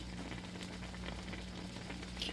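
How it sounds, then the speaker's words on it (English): Mushrooms, onions and peppers saute in butter in a cast iron frying pan, a steady close bubbling sizzle with soft crackles and no talking. "they're sauteing really nicely. You see it's bubbling."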